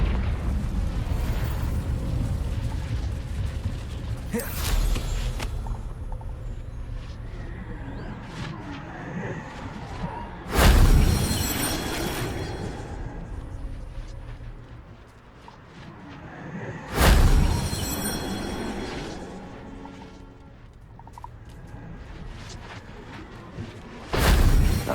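Confringo spell explosions in Hogwarts Legacy, three loud booming blasts spaced several seconds apart, each bursting sharply and then rumbling away over quieter background game ambience.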